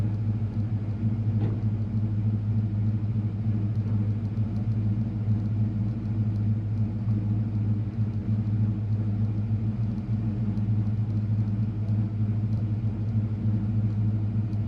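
A carbureted vehicle engine idles steadily while its air-fuel ratio is adjusted, a constant low, even rumble running unbroken throughout with no talk.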